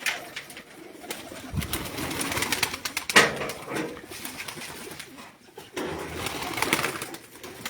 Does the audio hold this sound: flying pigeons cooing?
yes